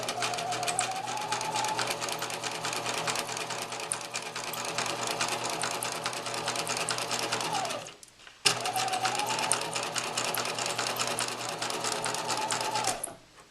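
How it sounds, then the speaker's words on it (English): A sewing machine runs steadily stitching along a line on practice paper, its fast needle chatter close and loud, pausing once briefly around the middle before starting again and running on until it stops. "You start by inserting the needle, and then you're following this black line on the edge of the presser foot."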